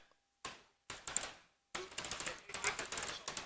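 Rapid keystrokes clatter on a keyboard in quick, uneven bursts, close and crisp, with short pauses between flurries of typing.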